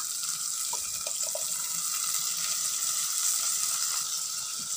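Tomato paste sizzles into onions frying in a pan for a tamarind okra curry: a steady, broadband hiss that stays level throughout, with a few faint clicks and scrapes and no voices.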